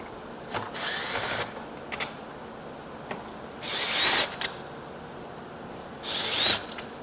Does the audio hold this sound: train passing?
no